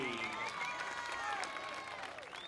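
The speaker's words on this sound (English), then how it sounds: "they both deserve a round of applause" At a WEC mixed martial arts event, the crowd applauds the fighters with steady, fairly distant clapping and cheering under gliding tonal sounds that fade slightly toward the end.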